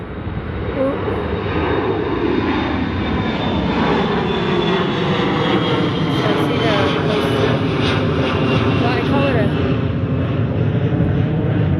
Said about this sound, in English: here comes another plane